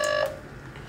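Brief telephone keypad tone, a single steady electronic dial beep lasting a fraction of a second before cutting off into quiet room noise.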